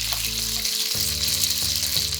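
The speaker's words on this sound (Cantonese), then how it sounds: "煎到一面上晒色之後呢，就可以翻過嚟繼續煎另外一面啦。" Pork ribs pan-frying in oil over medium-low heat for an orange-glazed rib dish, a dense, steady sizzle heard up close without any voices.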